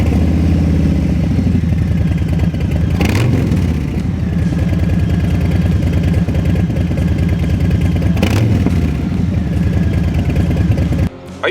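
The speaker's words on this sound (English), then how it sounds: "What we have here on this 2020 Lowrider S is a TBR 2-in-1 stainless steel exhaust." A 2020 Harley-Davidson Low Rider S with a TBR 2-into-1 stainless steel exhaust idles loud and close with a deep, lumpy rumble, blipping the throttle twice before cutting off abruptly.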